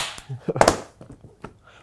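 Clapperboard snapping shut at the start of a studio shoot, a few sharp wooden claps in close succession, crisp and near, followed by quieter clicks.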